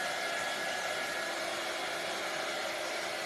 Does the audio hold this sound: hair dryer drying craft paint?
yes